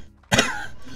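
A single sharp cough bursts out near the mic and trails off over about half a second, set against a quiet background during a Slime Rancher game session.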